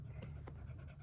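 A dog pants rapidly and steadily up close during an outdoor survival camping trip, with quick rhythmic breaths and no talk.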